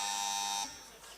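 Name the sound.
quiz buzzer pressed by a team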